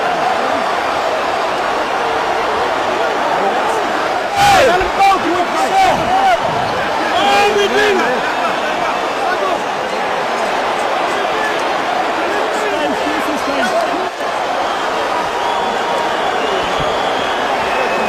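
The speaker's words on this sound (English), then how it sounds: "A stunned crowd here" Boxing arena crowd after Mike Tyson quits on his stool against Kevin McBride, a dense murmur of voices and chatter with occasional louder shouts, under close commentary.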